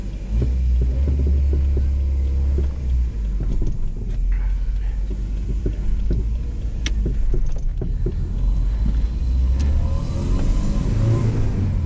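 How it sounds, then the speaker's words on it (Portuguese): Gasoline engine of a Volkswagen Passat TS idling and running steadily with a low, throbbing hum and a few faint clicks and rattles over it, continuous and fairly close, with no voices. "Esse som de Passat é característico"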